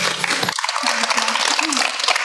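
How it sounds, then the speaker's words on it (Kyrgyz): A studio audience applauds a couple of guests at a Kyrgyz talk show: sustained, dense clapping with a voice sounding over it. "Кол чабыңыздар."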